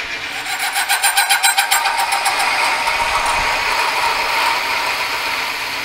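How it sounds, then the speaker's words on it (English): A threading tool cuts a 5/16 thread on a lathe. A loud, rapid mechanical chatter like a ratchet rattles at first, then settles into a steadier grinding hum as the cut takes load, with no speech. "Threading tool makes a racket till it gets under load."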